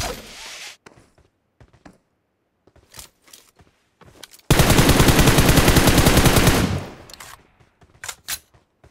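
Automatic gunfire in the mobile battle royale game PUBG Mobile, a loud sustained burst of about two seconds followed by scattered short shots and thuds.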